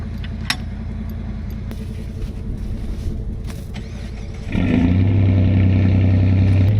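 Vehicle engine on a snow-tracked machine started in cold conditions, a low rumble of background noise that jumps to a louder steady idle hum partway through, close by, with no talking.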